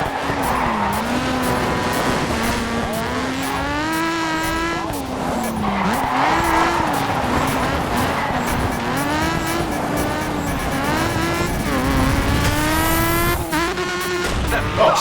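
A rally car in DiRT 2 on Xbox 360, its engine whining and shifting pitch as it races, with repeated tire skidding and squeal over a constant loud drone.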